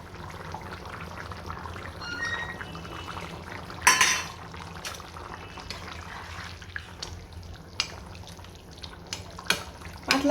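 Reserved frying oil is poured into a simmering Bengali catla fish curry flavored with ground black cumin, a steady close liquid trickle with small drips and a brief, sharper splash partway through.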